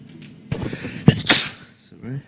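A single sharp sneeze during chess commentary on the Russian Championships Superfinals 2021, close and loud, with brief speech-like sounds around it.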